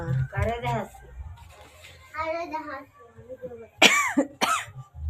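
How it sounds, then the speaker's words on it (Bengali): Someone coughs twice in a row near the end, sharp and close, after stretches of speech, apparently at home in the evening. "কাশি হচ্ছে আবার আমার"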